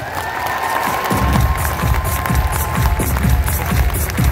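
An audience breaks into loud, sustained applause with cheering and shouts, the dense clapping continuing steadily throughout.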